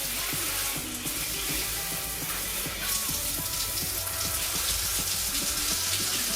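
WaterPik dual shower head spraying in single spa mode, a dense steady hiss of water with a rapid pattering pulse, close and continuous throughout with no voices.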